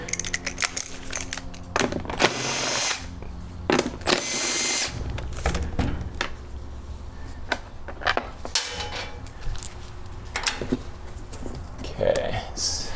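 Power drill removing bolts from a generator head, whirring in short bursts mixed with clanks and rattles of metal parts while a person talks.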